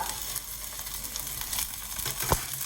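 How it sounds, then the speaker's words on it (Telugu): A hiss of an okra tamarind curry frying in a pan, with onion pieces stirred to keep it from burning. It is a soft, continuous hiss with scattered scraping strokes and one sharper clack near the end, fairly quiet and without talk. "కూర మాడకుండా తిప్పుకోవాలి"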